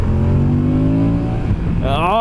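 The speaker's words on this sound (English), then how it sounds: "Oh, that's such a good sound, man. And that's stock exhaust." A 2023 Moto Guzzi V100 Mandello on its stock exhaust pulls hard, the engine note climbing steadily in pitch, then dropping briefly before revving sharply upward again, loud and close.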